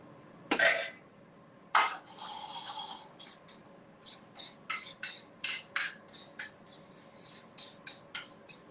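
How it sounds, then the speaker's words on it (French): Pots and pans clatter in a restaurant kitchen during cooking with oak shiitake mushrooms and carrots: a couple of sharp metallic bangs, then a steady run of short knocks and scrapes at close range, with no talking. "les bruits caractéristiques des casseroles"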